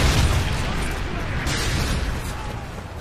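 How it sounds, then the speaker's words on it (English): A Predator missile strike in the video game Modern Warfare 3 lands as a deep, sustained booming rumble of broadband noise that stays loud throughout and tapers only slightly toward the end, with in-game voices mixed in. "Friendly Predator missile inbound."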